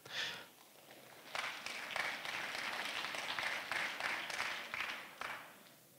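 Audience at a central anniversary ceremony of a professional engineering school applauds warmly, a dense sustained wash of hand claps from a crowd in a hall, steady for several seconds with a brief lull at the start.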